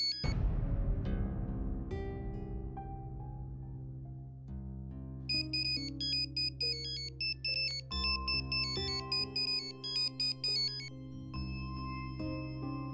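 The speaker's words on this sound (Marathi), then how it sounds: "अगं फोन घे." A telephone ringtone plays a melodic electronic tune indoors at a household, opening with a bright chime and then repeating its looping notes steadily and clearly, with no one speaking.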